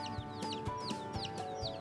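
Chickens on a poultry farm during vaccination cluck steadily in a quick, repeated rhythm of short calls at moderate volume close by, with no talking.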